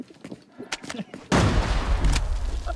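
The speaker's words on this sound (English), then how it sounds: "there's a guy throwing nades at me" Grenade blasts in the shooter game Arena Breakout Infinite hit suddenly and loudly after a stretch of talking, leaving a heavy, rumbling boom that rolls on for over a second under a speaking voice.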